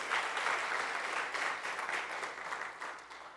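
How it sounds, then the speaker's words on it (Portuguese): A church congregation breaks into applause, broad, continuous clapping heard from a slight distance that swells and then gradually tapers off. "Você pode aplaudir o Senhor?"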